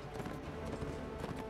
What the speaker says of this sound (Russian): Набираешь разгон на лошадке